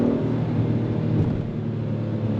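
A 2026 Acura MDX Advance with super handling all-wheel drive accelerating under throttle, a low steady engine rumble heard from inside the cabin, fairly subdued and even.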